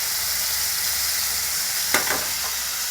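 Onion, ginger and cumin paste frying in a pan, a steady close hiss of sizzling with a couple of quick stirring scrapes near the end, no voices.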